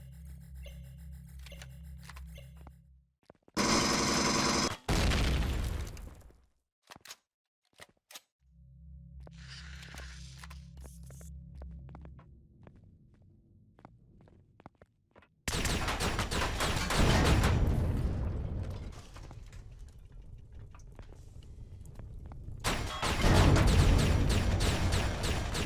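Enemy mechs open fire in the space survival game Empyrion Galactic Survival: loud, dense bursts of rapid gunfire, a short volley early on, then a long sustained barrage that fades and returns.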